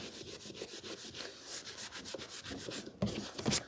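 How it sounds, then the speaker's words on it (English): Cloth rubbing over items from a vintage collection during close-up polishing, a steady scratchy rubbing with short strokes, near and fairly loud, ending with a couple of sharper handling knocks. "Right then, let's get polishing."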